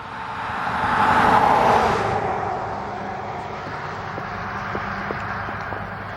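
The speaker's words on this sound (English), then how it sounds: "when you hear vehicles going by, you'll understand why" Traffic on Highway 3 beside a country church cemetery: one vehicle swells past in a loud whoosh, then fades into a steady distant road hum with a few faint ticks.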